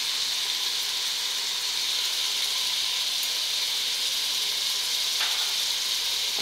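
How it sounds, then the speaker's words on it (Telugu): Spice masala of chilli powder, coriander, cumin powder and salt frying in a pan for upma, a continuous bright sizzle at an even, fairly loud level with no voices. "ఈ మసాలాన్ని వేపియాలండి బాగానే"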